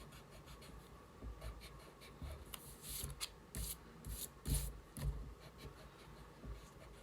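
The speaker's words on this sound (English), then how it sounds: "I will erase the last line I made." An eraser rubs out a pencil line on paper while cartoon eyes are being drawn, giving soft, irregular scrubbing strokes that come in short bursts and grow louder toward the end, close up and alone.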